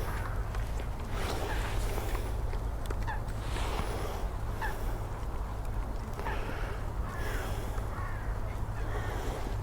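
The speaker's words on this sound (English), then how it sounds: "Quite a lot of geese." Geese honk repeatedly from the water below a bridge in East Park, Hull, with gulls about. Their calls rise above a steady low rumble of outdoor background noise at moderate distance.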